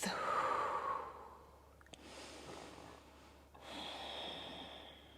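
A slow, deep breath during a yoga pose, with a long audible inhale, a pause, then a soft, airy exhale. It is close and quiet, with no talking.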